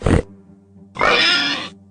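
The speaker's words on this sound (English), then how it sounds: "It's a pig!" A pig grunts twice, a short snort followed by a longer, rough drawn-out grunt, loud and close with no talk.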